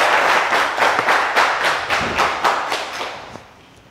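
Audience applause at a Ghanaian entertainment show, a loud burst of rhythmic clapping with distinct beats at a steady pace, fading toward the end.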